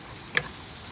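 Garlic sizzles in melted butter in a pan while cooking outdoors on a windy day, a soft continuous hiss with one small click partway through.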